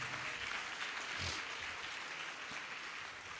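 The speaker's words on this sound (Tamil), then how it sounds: "என்ன இவ்வளவு உற்சாகமாக கைதட்டுறிய?" A church congregation clapping enthusiastically at a Holy Cross feast in Muthaiyapuram, Tuticorin, a steady, somewhat distant wash of hand claps with a few sharper accents.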